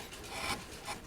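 Gouge shaving a carved wood rosette, soft scraping strokes rising and falling in two quiet swells, close and alone.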